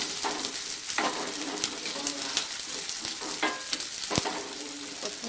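Garlic and onion sautéing in a pan for a Tamil garlic curry (poondu kulambu), a dense, loud, continuous crackling sizzle with scattered stirring clicks and scrapes throughout.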